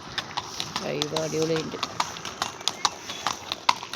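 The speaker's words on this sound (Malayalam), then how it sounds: "എന്തൊരു വലുപ്പമുള്ള കുതിരയാണ് നോക്കൂ" A large horse's hooves clip-clop in a steady series of sharp, close knocks on hard ground while a person talks over them.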